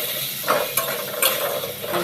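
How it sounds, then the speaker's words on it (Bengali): Pieces of pointed gourd (potol) fry in hot oil with turmeric and salt in a wok. The sizzle is steady and hissing, broken by a few sharp clinks and scrapes of stirring nearby. "প্রথমে আমি পটলগুলি ভেজে নিব"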